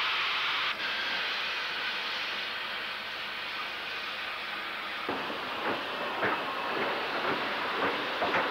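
A 1918 Andrew Barclay industrial steam locomotive named Efficient works a railtour of brake vans on the Birkenhead docks, giving a steady loud rumble that turns into rhythmic clanking and hissing bursts in the second half.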